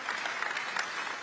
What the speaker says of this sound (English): Thank you for clapping for that one.